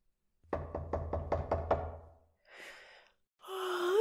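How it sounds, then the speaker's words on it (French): Seven sharp knocks on a wooden door in a quick, even series, followed by a sigh and a gasp. "On frappait à la porte."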